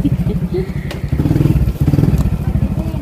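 Motorcycle engine running close by with a loud, pulsing, slightly rough idle and throttle blips, steady throughout as people talk in the background.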